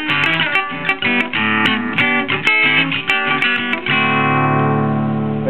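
Electric guitar through a late-1960s Baldwin C-1 amp on its mix setting plays a quick run of picked notes, then rings out on a sustained chord, clear and close with no talking.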